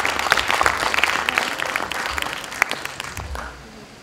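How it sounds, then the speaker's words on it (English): A conference audience applauds steadily, a dense clatter of many hands that gradually fades out over a few seconds, with no talking over it. "I would like to have a round of applause for..."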